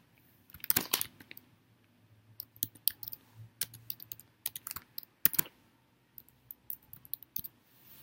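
A computer keyboard clicks in quick, uneven bursts of keystrokes as a message subject is typed, close and fairly quiet, with short pauses between flurries and no talking.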